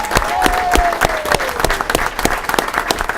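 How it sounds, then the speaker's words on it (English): An audience applauds a junior team called the Oaklawn Outlaws at an awards event, a steady burst of hand clapping with sharp individual claps over a continuous crowd wash. "Let's give them a round of applause."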